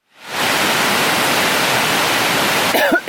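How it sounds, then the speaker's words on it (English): Waterfalls feeding Bubs Creek at Junction Meadows roar as a loud, continuous broadband rush, with a brief handling sound at the end. "a look at some of the tributaries / waterfalls that feed Bubs Creek"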